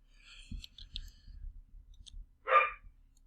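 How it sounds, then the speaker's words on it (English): A dog, a female, gives a single sharp bark midway through a quiet room, loud and close, preceded by light clicks and soft background noise. "And that's my dog. I don't know what she's barking at,"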